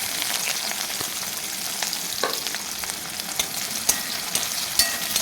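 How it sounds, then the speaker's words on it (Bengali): Onions sizzle and crackle in hot oil in a wok while a potato and pea curry is cooked, a steady close frying hiss with small pops throughout and no talking. "কড়াইয়ের মধ্যে তেল দেওয়া হয়ে গেছে আমি এটার মধ্যে পেঁয়াজগুলো"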